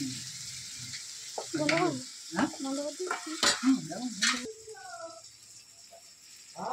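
Garlic sautéing in a pan with a steady frying hiss and stirring scrapes, someone talking over it for most of the stretch.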